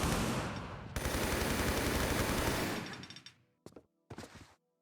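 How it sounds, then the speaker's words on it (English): An M16 in Tomb Raider 3's Thames Wharf level fires a loud, sustained automatic burst of rapid rattling shots, a short pause, then more dense fire that fades into a few scattered clanks and thuds. "I think the M16 will work"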